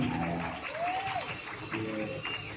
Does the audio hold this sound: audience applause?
yes